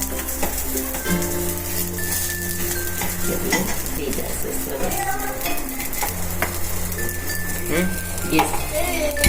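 Ragda patties shallow-fry in oil on a pan over medium heat, a continuous close crackling sizzle broken by a few metallic scrapes and clinks of a utensil against the pan.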